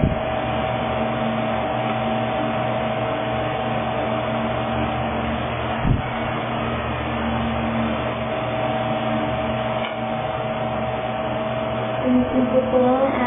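A hair dryer blows as a steady, moderately loud whirring drone with a mains-like hum, running without a break under faint, muffled indoor background.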